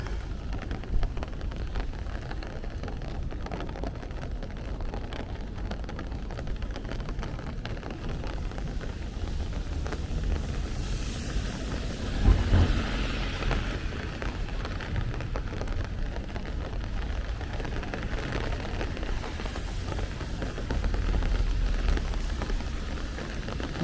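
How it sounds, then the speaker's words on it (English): Steady rain falls on a Bay Ridge, Brooklyn street along a block without trees, a constant close hiss of drops on pavement and surfaces with a low rumble underneath that swells briefly midway and again near the end. "we're going to hear rain for this whole walk until we get to the next corner"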